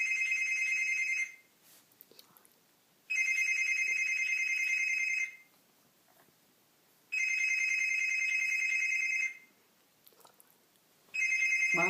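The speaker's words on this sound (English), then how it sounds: "Is that your phone?" An electronic telephone ringtone sounds loud and clear in repeated bursts of about two seconds each, separated by short quiet gaps, with no talking over it.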